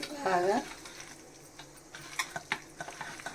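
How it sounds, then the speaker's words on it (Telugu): Spice paste of chilli powder, salt, turmeric, ginger-garlic paste, green chillies and curry leaves stirred in a pan, with a short burst of sizzling and scattered spoon scrapes and taps after a brief voice at the start. "మిక్స్ చేయాలా, బాగా కలుపుకోవాలన్నమాట."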